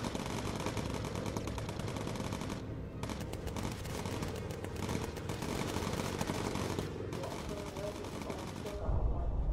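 A gunner fires on an enemy plane in the Bomber Crew video game: sustained rapid machine-gun bursts rattle continuously with brief pauses between strings, loud and dense, ending in a low rumble.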